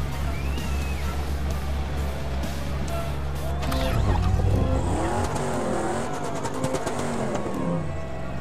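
A rally car's engine drones low and steady in the Dakar 18 racing game as it pulls away on a dirt track, rising into revving and tyre scrabble partway through, loud and continuous with no talk.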